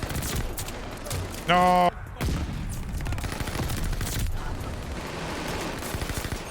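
Marco-5 submachine gun fire in Call of Duty: Vanguard, rapid bursts of shots chattering steadily over game noise, with a brief electronic tone and a short spoken exclamation near the start.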